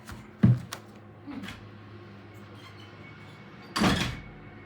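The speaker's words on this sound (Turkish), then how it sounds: "Ben hemen kapıyı kapatayım." A door closes with a short thud near the start, followed by a second louder bang of a door shutting a few seconds later, with quiet room noise between.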